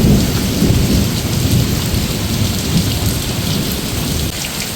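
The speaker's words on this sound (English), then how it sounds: "The wind and the rain and the storm is a little bit more disturbing today" Thunderstorm with wind and heavy rain, tornadoes reported nearby, pouring steadily and loud with a deep rumble of thunder underneath, continuous and close with no voices.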